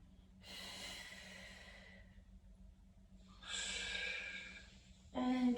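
Breathing during a standing Pilates exercise comes through as two long, audible breaths, one exhale and one inhale, each lasting about a second and a half, close and fairly soft, with a short voiced sound starting at the very end.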